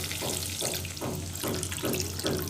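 Water pours into a pan of fish curry cooked with mustard, poppy seed and green chilli paste, a steady running splash with rhythmic surges under a low hum, close and moderately loud.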